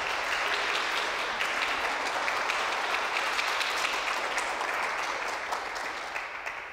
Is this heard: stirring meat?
no